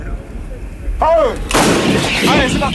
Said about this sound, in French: Ces canons de 155 sont installés à 10 km en arrière du front.